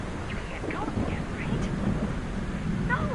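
Steady Minecraft rain hisses over a low rumbling thunderstorm, a constant wash of noise with brief higher flickers, while someone talks over it.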